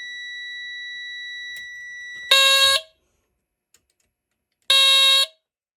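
A BRK 77R smoke alarm tested by shorting probes across its contacts lets out two loud, piercing horn blasts, each under a second, after a steady high electronic tone; quiet between the bursts.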